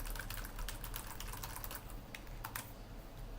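Quiet, steady typing on a computer keyboard while writing HTML code. Rapid key clicks run continuously, with a short pause near the middle.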